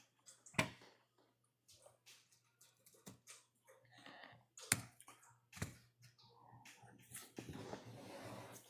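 Typing on a computer keyboard at close range, with scattered key clicks and short bursts of taps, faint and irregular against a quiet room.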